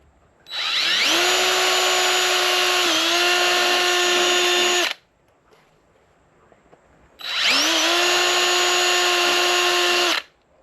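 A power drill with a quarter-inch bit bores holes while a motorcycle fender eliminator kit is fitted. It gives two loud, steady whining runs of about four and three seconds, with a quiet pause between them.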